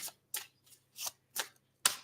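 Six short, crisp riffling bursts from a deck of playing cards being shuffled by hand, evenly spaced with brief silences between, close and fairly quiet.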